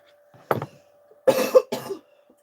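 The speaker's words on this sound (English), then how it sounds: "I have a cough because the cotton is in bloom" Three sharp coughs from someone nearby, one short burst followed by two heavier ones in quick succession, with quiet between them.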